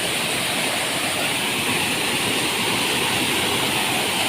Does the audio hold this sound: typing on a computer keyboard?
no